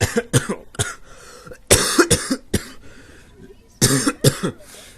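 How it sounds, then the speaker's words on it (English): A person gives several loud, close coughs in separate bursts, a pair early on, a longer fit in the middle and another cluster near the end, with quiet gaps between them. "I'm sorry if you're wearing headphones and I'm coughing in your ear."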